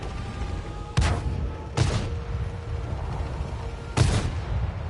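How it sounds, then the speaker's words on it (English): Artillery fire in World of Tanks: three heavy booms at uneven intervals ring out over a steady low battlefield rumble, each one sharp and fairly close. "there's the artillery"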